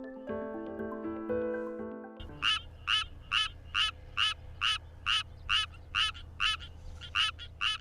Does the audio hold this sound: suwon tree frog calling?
yes